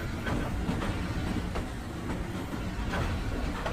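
A train rumbles steadily along a track over a small mountain, with a continuous close roar and faint rhythmic wheel clatter throughout.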